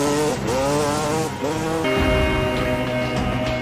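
A dirt bike from a zombie film revs and roars steadily, close and loud, its engine pitch rising and shifting across the stretch with no talk over it.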